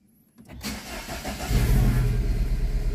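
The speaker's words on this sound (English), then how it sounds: "car starting." A Mini Cooper R56 with a misfire and a lit check engine light is started on site. After a brief moment of quiet, the starter catches and the engine fires, then settles into a close, loud, rough idle.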